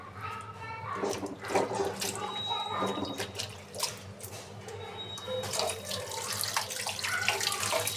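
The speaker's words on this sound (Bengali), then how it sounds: "একটু ভালোভাবে ধুয়ে নিতেছি আমি।" Food rinsed under a running kitchen tap while cooking chicken curry at home, a steady close water stream with splashing and clattering handling sounds.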